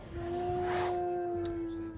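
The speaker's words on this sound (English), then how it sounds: "Dog." Dog howling in the video game Oblivion, one long steady tonal howl held for about two seconds, fairly close and alone.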